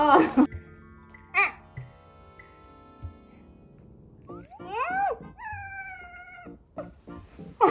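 Several drawn-out cat meows, some rising and wavering, close by, interspersed with a person's exclamations and talk.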